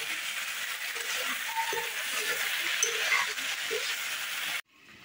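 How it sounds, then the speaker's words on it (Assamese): A broccoli and potato curry cooks in a pot over a home wood fire, giving a steady sizzle and bubbling hiss with faint stirring knocks, then cutting off abruptly near the end. "এইপিনে চব্জি বনি আছে"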